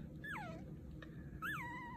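A Havanese puppy whimpers in its sleep, two thin, high, rising-and-falling whines spaced a second apart, close and soft over a low background hum.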